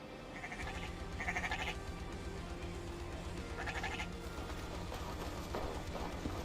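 Sheep in Assassin's Creed Valhalla bleat in several short, nasal calls over a steady game ambience with soft hoof clip-clops, with no talk over them.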